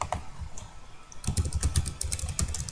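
Rapid keystrokes on a computer keyboard: a brief burst of clicks, a short pause, then a denser run of quick, close taps.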